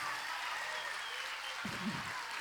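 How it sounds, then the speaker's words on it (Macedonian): Audience applause at a children's film academy event in Macedonia, greeting a teacher invited onto the stage; steady broadband clapping fills the whole short stretch at moderate level, with a brief low murmur of voices near the end. "Еден голем аплауз"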